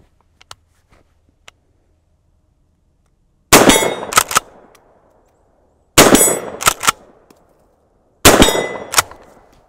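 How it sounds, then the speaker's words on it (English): A .410 shotgun with a 24-inch barrel fires 000 buckshot over a chronograph, giving three loud, sharp blasts spaced a few seconds apart. Each blast has a quick metallic clatter and a short echo, and faint ticks fall in the quiet between shots. "I fired 5 shots over the chronograph"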